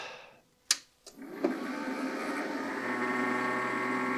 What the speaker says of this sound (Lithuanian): Biški ventiliatorius kaukia